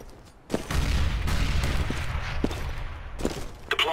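Grenade explosion in Counter-Strike: Global Offensive on the Mirage map, a loud boom that rolls into sustained rapid gunfire and echoing blasts, with a few sharp cracks near the end and no talk.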